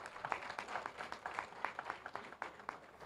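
Audience applause at an economic session of a diaspora club gathering, a steady spread of hand claps with sharper individual claps rising through the wash, moderately loud and alone without speech.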